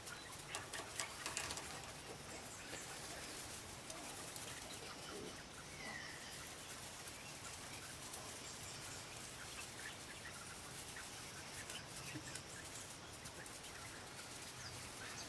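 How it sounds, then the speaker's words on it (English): Coturnix quail chicks just released into their new pen give faint, scattered soft calls over a constant hiss of outdoor background noise, with no talking heard. "The quails are out of the brooder. They're settling into their new enclosure."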